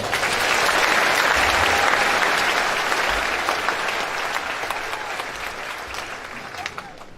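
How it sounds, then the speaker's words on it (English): Sustained audience applause fills a high school graduation ceremony at Tippecanoe Valley High School, a dense, steady wash of many hands clapping that stays loud throughout and slowly tapers toward the end, with no clear voices over it. "Let's give another round of applause."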